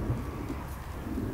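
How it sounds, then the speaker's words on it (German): Steady rain falls as a soft, even hiss with a low rumbling undertone, moderately close and continuous through the short stretch, with no talking. "Ja, es regnet, das weiß ich."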